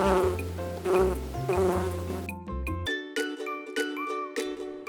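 A honeybee buzzes in a steady, close drone for about two seconds over background music, then stops, leaving only tinkling musical notes.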